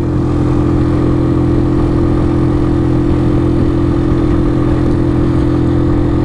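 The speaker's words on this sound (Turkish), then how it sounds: "5000 devirden sonra hızlanabiliyor bu motor." A Superlight 125 motorcycle engine runs steadily in third gear above 5000 rpm during a highway ride between cities. The loud, continuous drone holds an even pitch, mixed with wind rush and no speech.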